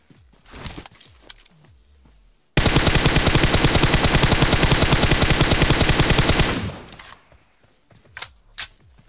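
Sustained automatic gunfire in the BGMI / PUBG Mobile battle royale game, a loud rapid burst of about four seconds that bursts in abruptly and fades, with quieter game sounds before and after.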